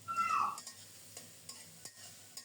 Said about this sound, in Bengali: এবার ঢেকে ঢেকে নেড়ে চেড়ে পেঁয়াজ আর রসুন একটু নরম করে এবং লালচে করে